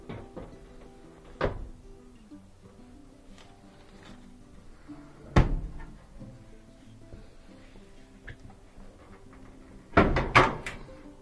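A Samsung dryer's top panel is lifted and lowered onto its pegs, giving three separate hollow thunks with quiet handling noise in between, the last impact doubled and the loudest.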